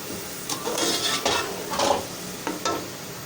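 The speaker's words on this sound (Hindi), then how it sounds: "हम मिक्स करेंगे सब मसालों को" Whole spices for beef nalli biryani stir-fried in a pot at a Karachi street food stall, giving a steady sizzle broken by several scraping stirs of a spoon against the metal, close and fairly loud, with no voices.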